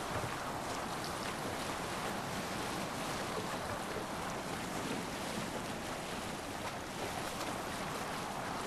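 A sailing ship crosses the open sea in Assassin's Creed Valhalla, with a steady, dense rush of wind and breaking waves filling the whole stretch and no talking.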